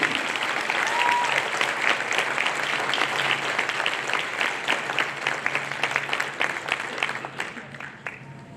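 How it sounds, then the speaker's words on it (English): Graduation reception crowd applauds Potter College Arts and Letters graduates at an honors college event; steady clapping with distinct individual hand claps audible, tapering off gradually toward the end. "let's give a round of applause for our Potter College Arts and Letters graduates"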